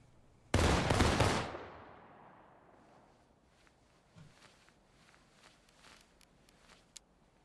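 A massed musket volley from a line of Civil War-era infantry in War of Rights cracks out at once, loud and sharp, then rolls into a long decaying echo with a few scattered later shots.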